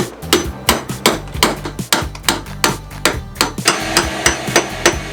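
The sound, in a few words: hammering a chisel to remove a boat thru-hull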